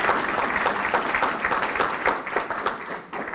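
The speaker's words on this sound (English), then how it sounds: "So give your hands a round of applause again." Steady crowd applause at an opening session: many hands clapping in a dense, even wash that holds for several seconds, then thins at the close.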